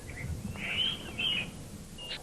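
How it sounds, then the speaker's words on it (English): An ashy wren warbler gives a few thin, high chirps in quick succession, fairly clear against a soft, rumbling outdoor background. "Ashy wren warbler might be the most beauty-conscious bird in the world."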